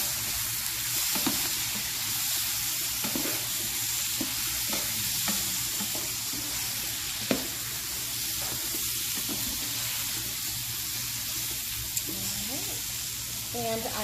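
Pork tenderloin seasoned with salt and black pepper sizzles in a pan, giving a loud, continuous hiss with scattered crackles and pops and occasional stirring scrapes up close.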